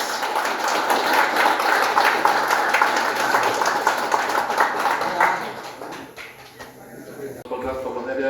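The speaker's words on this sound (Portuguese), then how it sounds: "Uma salva de palmas." Audience at the EnconTex 2024 event breaking into applause, a dense burst of clapping for several seconds that fades out toward the end, with some voices mixed in.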